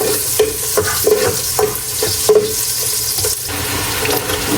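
A papaya dish cooking in a pan and being stirred, with repeated scraping strokes over a steady sizzle, close and fairly loud, with no voices.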